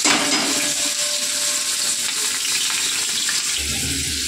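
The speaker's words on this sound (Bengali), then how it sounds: "তেল গরম হয়ে গেছে, আমি তেলের মধ্যে কোচানো পেঁয়াজটা দিয়ে দেবো।" Chopped onion hitting hot oil in a pan, a bright, dense sizzle that stays loud and steady throughout, close up with faint stirring and no voices.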